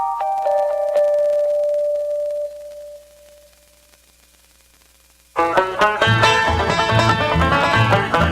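On a radio show, a bell rings with a clear struck tone that decays over a few seconds, then music starts.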